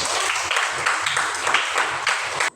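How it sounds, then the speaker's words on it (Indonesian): Applause for Jeffrey in a classroom-style lesson on the family, a short run of rhythmic clapping in roughly even pulses, cutting off abruptly at the end. "Oke, tepuk tangan untuk Jeffrey."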